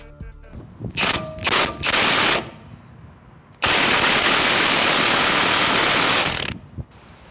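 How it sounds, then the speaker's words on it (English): Electric impact wrench with an extension hammering a track bar bolt on a Jeep rear axle, several short loud rattling bursts followed by a long sustained hammering run, very close and harsh. "Now that's torque loss due to the extension that I have on my electric impact."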